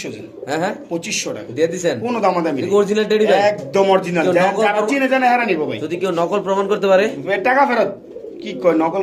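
Pigeons coo close by in soft, throaty, rolling calls. A person talks over them for much of the clip.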